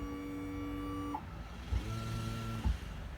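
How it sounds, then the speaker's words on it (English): Mercury outboard motor's electric trim motor running to tilt the motor up and down, a steady mechanical whine with tonal hum that shifts pitch partway through, plus a couple of soft clunks, close and alone. "I'm going to move the motor up and down."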